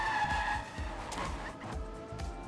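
Cars driving and skidding in a video game match, engine drone with tyre squeals and scrapes running steadily throughout, moderately loud, no talk heard.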